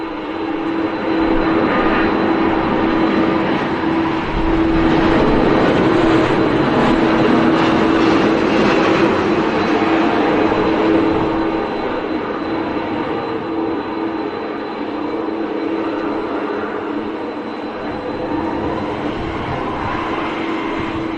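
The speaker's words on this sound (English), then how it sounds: "And this aircraft positioning in from Edinburgh." A jet aircraft positioning in from Edinburgh rolls along the ground at Manchester Airport, heard from the airport pub as a loud, steady engine roar with a sustained whine that swells slightly and then eases off.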